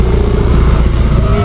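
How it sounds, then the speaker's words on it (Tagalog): Motorcycle engines idle and rumble steadily at a crowded riders' gathering, the low throbbing loud and close with a continuous clatter and no clear single pass. "Ang daming mga motor."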